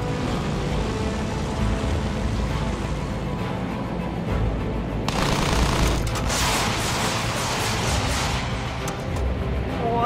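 Distant enemy machine gun fire in a Battlefield 1 battle, a steady rattling barrage under a wash of battlefield noise that grows louder and denser in the second half.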